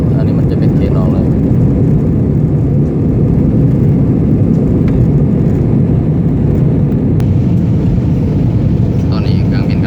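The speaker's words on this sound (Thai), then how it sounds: "ตอนนี้เครื่องบินกำลังขึ้นเนาะ" Airplane taking off on a flight out of Noi Bai airport, a loud, steady low engine roar filling the whole cabin, with people talking over it.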